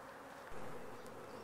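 A swarm of honeybees hums at a hive box, a dense, steady buzz that is faint and continuous, with one brief swell as bees pass close to the microphone.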